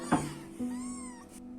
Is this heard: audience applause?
no